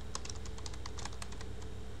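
Steady, quick keystrokes on a computer keyboard while entering text for an HTML web page, a dense run of light clicks with no pauses over two seconds, fairly close and faint against a low room hum.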